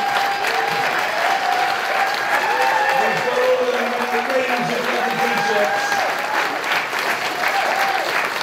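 An audience applauds and cheers loudly and continuously for stand-up comedians at a Comic Relief show, with someone talking over the ovation throughout.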